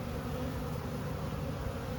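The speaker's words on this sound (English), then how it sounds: "There are a lot of the bees that I put in the box earlier coming out, but there are some going back in" A honeybee swarm flies in and out of a hive box, making a dense, steady, close buzzing hum that continues unbroken throughout, with no voices.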